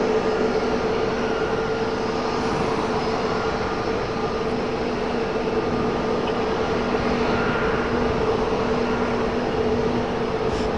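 An airliner arriving on runway 5 right, a loud sustained engine rumble with steady tonal hums running through it, constant from start to finish.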